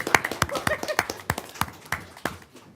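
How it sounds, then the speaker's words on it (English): Applause at a borough council meeting: a short, scattered round of clapping from a small crowd, irregular claps tapering off after a couple of seconds. "Let's give him another round of applause."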